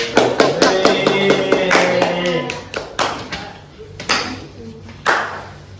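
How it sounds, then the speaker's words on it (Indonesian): Elementary classroom students clap for a presenting group, with rapid, uneven hand claps that thin out into a few scattered later claps, mixed with children talking over them. "Beri tepuk tangan untuk kelompok 4."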